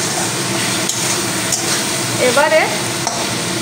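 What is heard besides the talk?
stirring chicken frying with ginger and garlic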